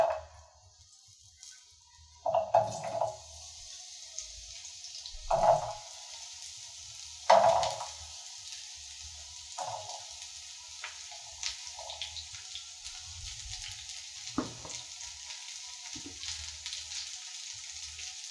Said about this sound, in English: So our oil is ready. Let's add the butternut.